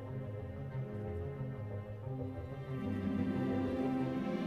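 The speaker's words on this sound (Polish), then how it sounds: "To, co słyszycie teraz, te bębny, to jest soundtrack z Więźnia Azkabanu." Deep, rolling drums from the Buckbeak's Flight soundtrack playing in the LEGO Harry Potter video game, a sustained rumbling orchestral texture that swells slightly louder halfway through, with no talking.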